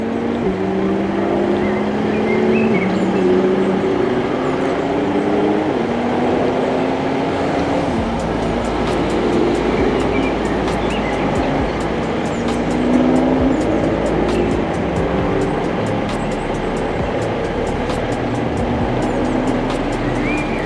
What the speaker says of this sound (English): We have got all the supercars going on the airfield.